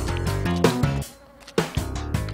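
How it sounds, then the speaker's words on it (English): Bees in the video game Spelunky give off a loud, droning buzz in bursts that stop briefly midway and then resume. "I hear bees?"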